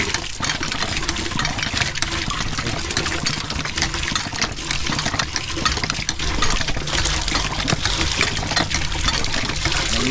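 Water pours steadily into a plastic gallon container with its top cut off, a continuous rushing splash with a low engine-like hum underneath, no talking.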